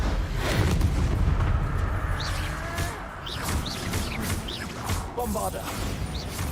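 Confringo blasting spell explosions in the game Hogwarts Legacy, a series of booming bursts and crackling impacts under spoken voices, with occasional bright magical whooshes layered over a busy, rumbling background.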